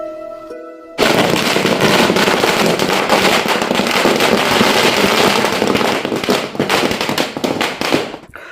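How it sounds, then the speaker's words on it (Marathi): Firecrackers and fireworks burst during a BJP victory celebration in Yeola, a dense, continuous crackling barrage of rapid loud pops that starts abruptly after a brief quiet lead-in and rattles on without pause. "फटाक्यांची आतिषबाजी आणि पेढे वाटून साजरा केला विजयोत्सव"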